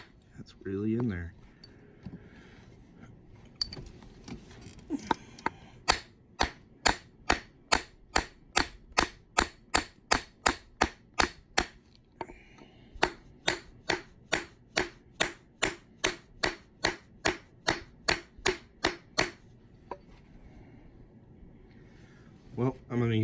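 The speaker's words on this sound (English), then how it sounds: "things take longer with the plastic hammer" Brief speech opens and closes a long run of even, sharp knocks as a plastic hammer strikes a coin ring tool, close and steady at a quick pace, then stops before talking resumes.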